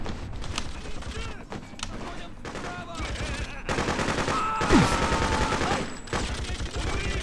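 Sniper gunfire in the video game Freedom Fighters: dense, loud bursts of rapid shots and cracks run almost nonstop, with voices mixed into the clamor.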